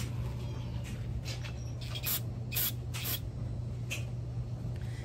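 Carb cleaner sprays in several short, sharp aerosol bursts onto ECHO SRM 2620 trimmer parts, close by, over a steady low background hum without speech.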